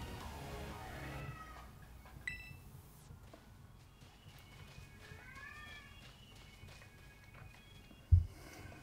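A cat meows several times from a distance down the hall, faint rising calls against a quiet background, followed by a single sharp knock near the end.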